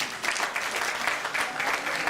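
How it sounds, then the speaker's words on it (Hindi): Steady audience applause at a Republic Day gathering in a Hindu temple hall, dense clapping at moderate level, continuous and alone. "हमारी उषा बहन के लिए जोरदार तालियां प्लीज"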